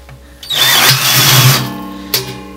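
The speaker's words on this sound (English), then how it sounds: "I'm going nice and slow, but I'm making the drill strain almost that I have so much weight on it." A power drill grinds slowly through the wall of a stainless steel brew pot under heavy pressure, the motor straining in a loud sustained whine that cuts off abruptly, then a brief clatter and a quieter residual hum.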